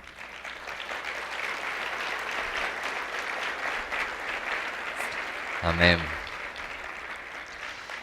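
A church congregation claps for God during a Spanish-language sermon, a dense, steady wash of applause lasting throughout, with a brief spoken word rising over it near the end.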